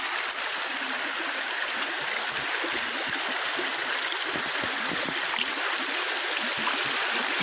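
A rain-swollen river near Blanchisseuse rushes steadily and loudly after a night of heavy rain, a constant broad wash of flowing water with no break.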